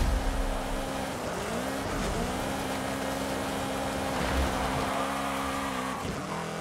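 A Ferrari engine drones steadily in Forza Horizon 5, with a sustained tonal whine that dips and rises as it shifts or passes, over faint road and background noise.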